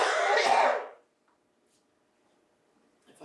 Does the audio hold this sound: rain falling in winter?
no